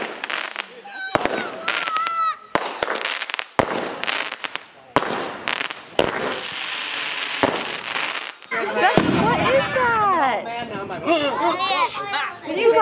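Fourth of July fireworks go off in a string of sharp bangs and crackling bursts, followed by children shouting and chattering excitedly over the noise.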